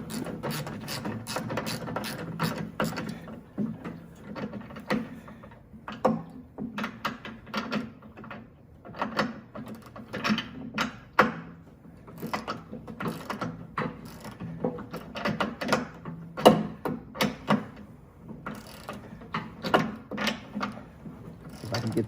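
A ratchet tightens a nut and bolt down into wood on a homemade tractor snow pusher edge, giving repeated rapid clicking strokes in uneven bursts for over twenty seconds, close and fairly loud with brief pauses between strokes.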